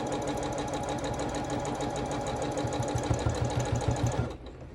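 A sewing machine runs at a fast, steady rhythmic clatter close by, then stops abruptly near the end, leaving a quiet hum.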